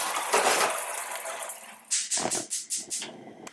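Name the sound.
rinsing yams under running water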